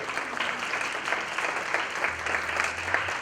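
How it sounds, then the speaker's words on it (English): An audience at an emotional health talk claps for a woman, a steady wash of many hands applauding close and loud with no let-up. "Someone clap for her."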